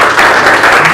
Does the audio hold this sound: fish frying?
no